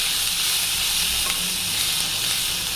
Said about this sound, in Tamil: இதை நல்லா அப்படியே ஆயிலில் இந்த பூண்டு கூட அப்படியே மிக்ஸ் பண்ணி விடுவோம்